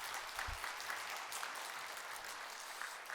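A church congregation at a Sunday worship service gives soft, distant applause, a continuous even wash of many hands clapping with no voices over it.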